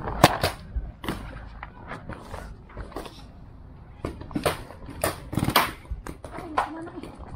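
Scattered sharp pops of paintball guns firing, some in quick pairs, with people shouting and talking between shots at an outdoor paintball park in Dubai.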